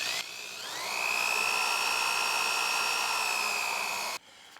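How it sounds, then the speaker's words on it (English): A power drill with a larger bit bores into wood with a steady high whine that ramps up and holds for about four seconds, then cuts off abruptly. "So I use a larger drill bit, and when you switch to a larger bit, it's going to want to eat it off a lot quicker."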